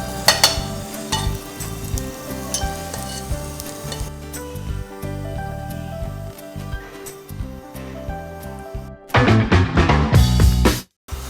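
Chicken roulade filling sizzles and fries in a pan, a steady crackle with occasional stirring that turns louder and busier near the end before cutting off.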